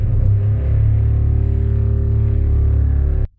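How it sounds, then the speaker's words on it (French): Drill-like demon sound effect from the PS2 game Daemon Summoner: a loud, steady droning whir with a constant pitch, running unbroken for about three seconds before cutting off abruptly. "Ils ont mis ce son pour faire le bruit d'un démon."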